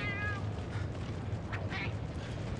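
A cat meows in the Monster Hunter 3 video game, with a few short meows spread across a steady low background hum. The calls sit at a moderate distance and stand out clearly over the hum.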